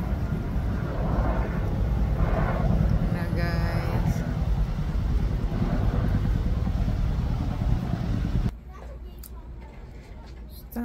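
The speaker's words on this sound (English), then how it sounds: "Another airplane!" An airplane passes overhead as a broad, steady roar under ongoing talk, then cuts off abruptly near the end.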